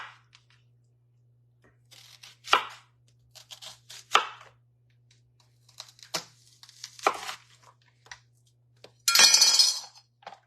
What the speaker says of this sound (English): we're going to chop up our onion